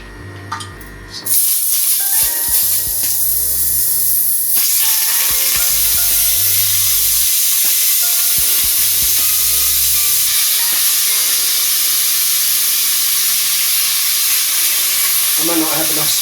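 Oil sizzles loudly and steadily in a hot pot while pork adobo cooks, a constant dense hiss that jumps up sharply after the first second and runs on unbroken, with faint low knocks beneath.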